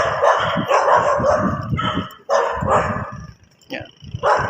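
Several dogs bark repeatedly in loud, irregular bursts up close, with someone talking over and between the barks.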